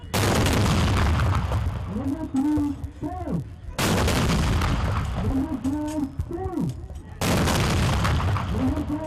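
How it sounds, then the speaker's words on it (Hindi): Cannon salute fired in Pakistan for Independence Day, with three heavy booming blasts spaced a few seconds apart, each followed by a decaying rumble, while voices sound faintly between the shots. "विफाकी दारुल हुकूमत इस्लामाबाद में 31 और सूबाई दारुल हुकूमतों में 21-21 तोपों की सलामी दी गई।"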